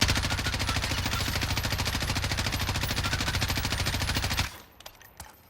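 Sustained full-auto fire from an M4 rifle in Call of Duty Warzone, a rapid even stream of loud shots for about four seconds, then it stops and a few faint clicks and rattles follow.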